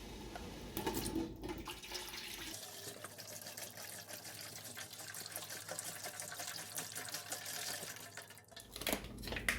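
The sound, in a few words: pouring beef broth into stew pot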